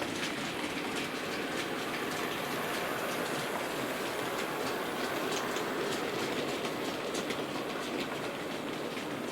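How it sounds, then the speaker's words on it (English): A Hornby LMS Stanier Black 5 model locomotive runs backwards hauling a heavy coal train of many trucks, making a steady close-up rattle with rapid clicking from the wheels over the track joints. No voices are heard. "And here we are running backwards with a heavy coal train."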